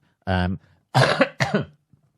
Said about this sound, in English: he says, clearing his throat